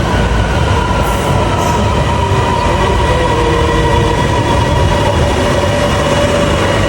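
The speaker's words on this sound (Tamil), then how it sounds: "வந்து விட்டது ட்ரெயின் நெருங்கிக்கிட்டே இருக்குது" A loud, steady rumble of a metro train arriving at a station in Thailand, with a droning hum and rising whine of wheels and motors filling the space.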